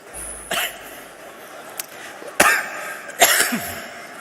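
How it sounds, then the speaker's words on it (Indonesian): Three sharp coughs ring out close to the microphone, spaced a second or two apart, with quiet room noise between them. "Itu batuk."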